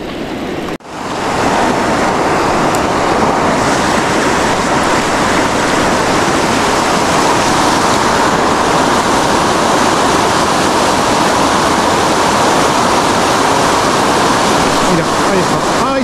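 Esla river water rushes in a steady, loud broadband roar on a fishing stretch at Quintana de Rueda, continuous throughout after a brief cut at the start.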